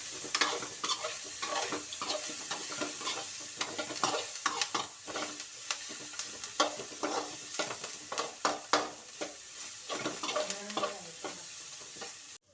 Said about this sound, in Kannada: ಈಗ ಸ್ವಲ್ಪ ಮಿಕ್ಸ್ ಮಾಡಿ.